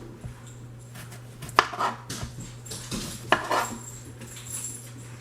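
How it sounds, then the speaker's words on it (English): A knife chopping through the ends of Roma tomatoes on a cutting board, with a few sharp knocks and light clatter close by under a steady low hum. "I'm going to cut the ends off"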